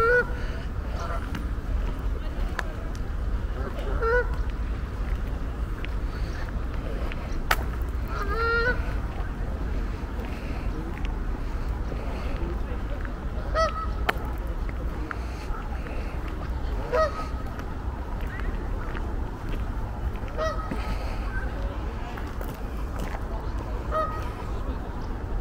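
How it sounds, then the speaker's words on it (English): Many geese honk at a distance at Spike Island, scattered calls repeating over a constant low engine-like rumble. "You can hear all the geese there."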